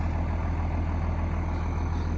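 An MB Trac 1300 tractor runs steadily in the background at a spreading job with a Fleming barrel spreader, giving a continuous low diesel rumble with no talk over it.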